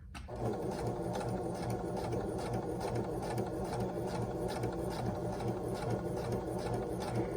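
A sewing machine runs steadily, stitching patchwork pillow fabric in one continuous, close, even whir that reverses and continues without pause, with no talk over it.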